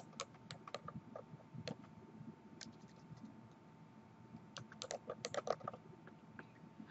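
Typing on a computer keyboard, scattered soft key clicks in short bursts, faint and close, with a quiet background.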